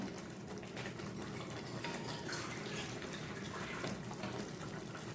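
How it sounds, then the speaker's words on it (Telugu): Steady splashing of water poured into a pot of fish curry, continuous and moderately loud for several seconds with no voices. "కొంచెం వాటర్ యాడ్ చేసుకుందాం."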